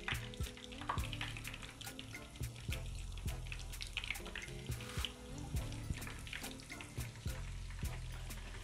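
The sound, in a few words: marinated chicken frying in hot oil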